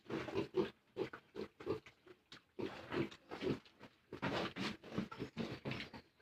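Piglets eating hog pre-starter feed grunt and oink in quick, irregular bursts close by, several animals overlapping as they feed.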